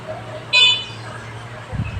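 A car horn gives a single short, bright honk from nearby on a street, briefly rising over low traffic rumble while a voice talks in the background.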